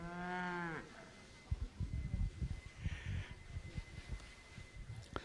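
A Speckle Park bull gives one loud, drawn-out moo at the start, at a cattle show ring, followed by shuffling and thuds as the animal moves about.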